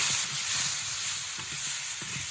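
Ground spices, turmeric and chilli powder, sizzle steadily in hot oil in a pan for a Bengali fish curry, with soft scraping stirs breaking through the even hiss near the mic.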